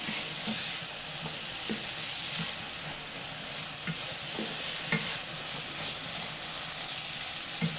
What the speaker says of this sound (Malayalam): ഇനി ഇത് നല്ലതുപോലെ ഇളക്കി മിക്സ് ചെയ്തിട്ട് ഇത് നമുക്ക് കുക്ക് ചെയ്തെടുക്കണം.